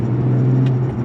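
A Porsche 911 Carrera 997.2 with a 3.8-litre naturally aspirated engine drones steadily and loudly from close by while driving, holding an even tone with no talking.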